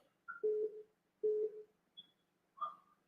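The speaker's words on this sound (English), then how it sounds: "Can you check your number because I'm calling it and it's ringing?" A telephone ringback tone plays on an outgoing call to a number: two quiet, evenly spaced low tones, then faint higher blips, with near silence between.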